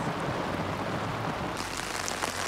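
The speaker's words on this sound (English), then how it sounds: "The rain." Heavy rain pours steadily during a severe UK thunderstorm, a dense continuous hiss of drops on surfaces, loud and close throughout with no thunder standing out.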